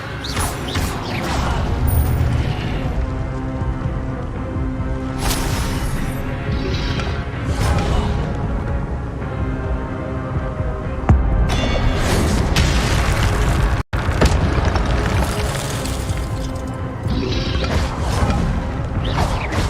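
Spell-casting effects from the Hogwarts Legacy video game, a dense run of whooshing bursts, booms and crashing impacts, loud and continuous with repeated blasts.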